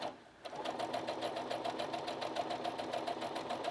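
A sewing machine stitches a half-inch seam through fabric pieces placed right sides together, running in a steady rapid whirring rhythm close by after a brief quiet start, with no talking.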